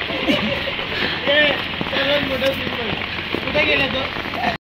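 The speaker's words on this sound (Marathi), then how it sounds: "पाऊस चालू आहे" Steady rain patters on a surface, close and constant, with a voice speaking faintly underneath.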